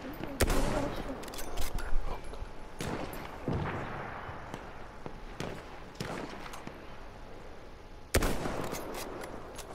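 Gunfire in the video game Battlefield 1, several sharp rifle shots spaced a few seconds apart over a low battlefield din, with a player talking over the action.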